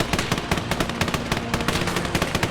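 A tank in the Army Men video game fires on exposed soldiers, producing rapid, continuous bursts of gunfire with a steady, loud rattling rhythm and no talking.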